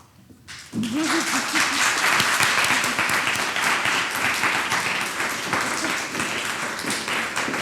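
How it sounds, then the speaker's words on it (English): A crowd breaks into sustained applause that starts suddenly and continues steadily, with a brief voice audible at the onset. "A big round of applause for Shannon."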